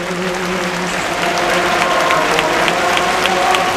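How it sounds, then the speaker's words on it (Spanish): A large outdoor crowd of Extremadurans in the Plaza de la Puebla applauds as the Virgin of Guadalupe emerges during a Jubilee Year Mass, dense and continuous with some cheering, and a low chanting or musical drone underneath. "Les voy a dejar con ese aplauso de los extremeños que están en la Plaza de la Puebla"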